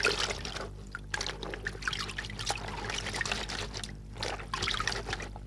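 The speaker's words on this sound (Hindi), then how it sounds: "अब मैं आपको एकदम साफ धो के दिखा देती हूँ" Tap water runs in a bathroom while hands are washed clean, an uneven trickling and splashing stream that stays fairly quiet and close, with shifting bursts as the hands move under it.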